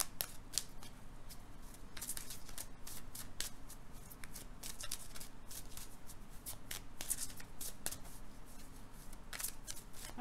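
Tarot or angel cards being shuffled by hand produce a rapid, continuous riffling and flicking of crisp card edges, close and steady for several seconds, with no talking.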